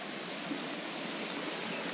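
A small stream runs below a temple near Torna fort in India. Its soft, continuous watery hiss is fairly quiet and even, with no voices over it.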